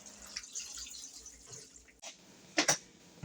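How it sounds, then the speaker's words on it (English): Distilled water pours and splashes in brief bursts, with a short trickle and then a louder splash near the end, against quiet room background. "we're going to pour some distilled water over them"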